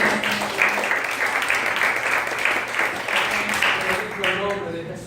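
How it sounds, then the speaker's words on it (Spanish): Congregation applauding during a church service, a loud wash of clapping that swells and holds, then thins out toward the end as a voice begins speaking. "¿Cuántos le dan aplausos, Señor?"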